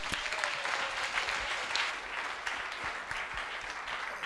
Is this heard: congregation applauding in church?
yes